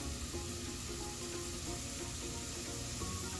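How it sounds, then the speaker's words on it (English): Onions frying with cumin seeds in a pan give a faint, steady, even sizzle that continues without a break, with no talk. "The onions are frying, and now I'm gonna add 1 teaspoon of cumin seeds to the onions."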